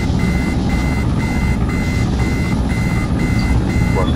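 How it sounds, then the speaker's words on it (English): Regular electronic beeps repeat about twice a second over a steady, loud engine drone in the video game ARMA 3, with no pauses between them. "Just ignore that beeping sound."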